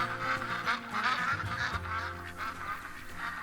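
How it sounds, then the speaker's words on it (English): Ducks quack continuously in a hunting video game, a dense, loud chorus of overlapping honking calls filling the whole stretch with no pauses. "Hold on, I cannot think with these ducks."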